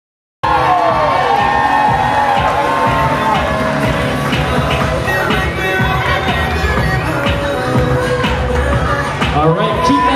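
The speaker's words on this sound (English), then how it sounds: "how about a big round of applause for our bridesmaids and groomsmen?" A wedding reception crowd applauds and cheers loudly and without a break as the bridesmaids and groomsmen enter, with whoops and shouts over the clapping.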